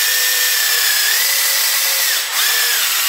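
Electric buffer polisher spinning with a polishing pad, a continuous high whine with a steady hiss, its pitch dipping briefly once as the load changes, close and loud.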